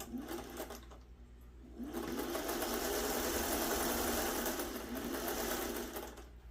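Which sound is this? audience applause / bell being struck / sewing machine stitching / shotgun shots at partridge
sewing machine stitching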